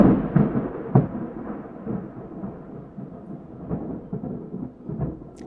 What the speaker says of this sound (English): you have your ambient Google noises from me of just rain and thunder